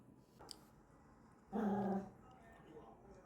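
A small dog gives a brief low growl with a whimpering edge, quiet and close, amid faint room noise.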